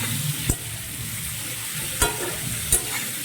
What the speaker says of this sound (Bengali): তাই ভাজতে ভাজতে আমি এর মধ্যে দিয়ে দেবো 5 ফোড়ন